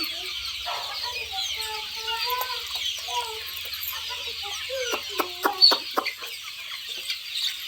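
Young native country chicks, seventeen days old, cluck and peep on a village farm, a steady stream of small chirps with a brief cluster of louder calls near the end.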